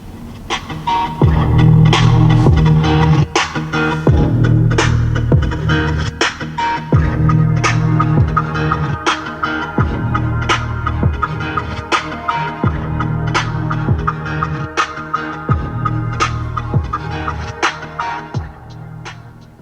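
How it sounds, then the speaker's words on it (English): Music with a heavy, throbbing bass beat and bright percussion plays loudly through the 550-watt, 11-speaker sound system of a 2020 Honda Odyssey, filling the cabin steadily for the whole stretch. "we have a 550 watt 11 speaker sound system, so we'll go ahead and take a sample of that"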